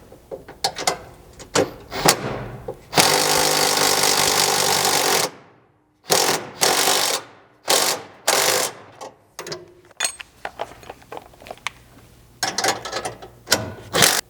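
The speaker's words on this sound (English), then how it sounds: "you're going to need an 18mm socket and wrench for our 10mm" A socket wrench ratchets on bolts at a Polaris Ranger rear bumper mount, with several bursts of fast clicking separated by pauses, plus a longer stretch of loud mechanical noise near the start. The sound is close and clear, and no one speaks.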